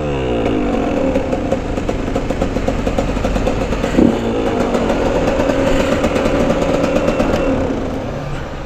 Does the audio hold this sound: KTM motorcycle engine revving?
yes